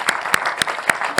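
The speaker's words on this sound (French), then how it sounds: "On va les applaudir." Sharp hand claps at a steady rhythm, about five in just over a second, close and clear, as an audience starts applauding university students at an evening event.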